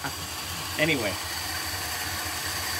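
A 1962 Dodge D200 truck engine with a Stromberg WW carburetor idles with a steady, low, even pulse, and someone speaks briefly over it.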